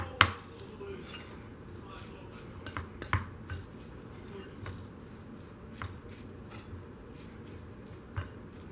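A spoon stirs a tahini mixture in a bowl, making faint, scattered clinks and scrapes against the dish over a quiet room background.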